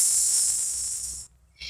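A human voice imitates the hiss of water poured onto a fire with a long, steady breathy hiss that cuts off abruptly, followed by a brief pause and the start of a second hiss.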